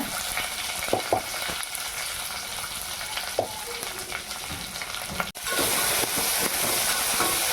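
Hot oil sizzling steadily as onion, curry leaves, garlic and cumin fry for a chutney, a continuous hiss with a few stirring clinks, jumping louder near the end.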